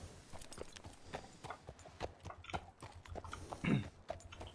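Horse hooves clip-clopping in the video game RedM, a steady run of light hoofbeats at low level, fairly close and heard alone.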